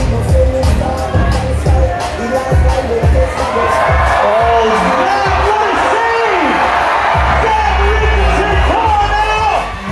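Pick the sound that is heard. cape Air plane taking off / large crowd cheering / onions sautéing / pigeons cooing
large crowd cheering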